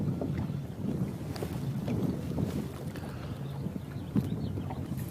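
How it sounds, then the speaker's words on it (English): Wind blowing through a creek on a lake buffets the microphone with a low, rumbling roar, gusting unevenly, with faint knocks and splashes mixed in. "the wind's kind of blowing right through the creek"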